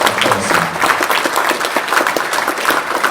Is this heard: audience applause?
yes